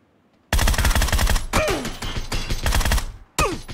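Loud, near automatic gunfire in PUBG Battlegrounds: dense rapid bursts of shots that run almost without pause for about three seconds, then cut out briefly before another burst.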